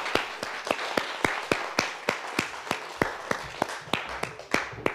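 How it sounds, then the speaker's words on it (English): A small audience at a school storytelling event claps in a sparse, fairly quiet round, with individual claps landing distinctly and steadily. "Let's give a round of applause to Samantha."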